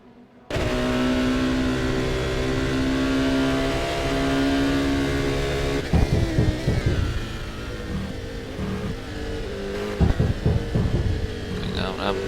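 A LMPC prototype race car's engine in rFactor on a Le Mans lap, a steady loud droning whine held for several seconds, then rapid revving and gear changes, with a voice talking over it.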